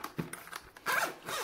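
A zipper on a Jabra Elite 85h headphone case being pulled open, a few short scratchy tugs followed by a longer, steady close-up zip.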